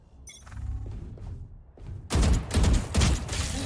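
Gunfire in the video game Valorant: a burst of heavy, rapid shots fires after a quieter stretch of clicks and movement, loud and close with several distinct cracks in quick succession.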